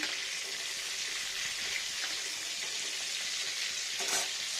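Hilsa fish frying in hot oil in a home kitchen, a steady close hiss and crackle of sizzling fat running throughout with a brief louder spatter near the end.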